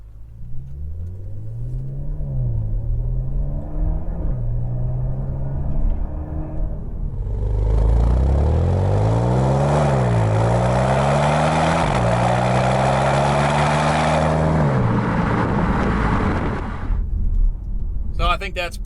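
Porsche Macan fitted with an Armytrix valved exhaust, valves closed, pulls away at normal pace: a steady engine rumble rises through several upshifts, fairly loud and close, fading somewhat as it departs.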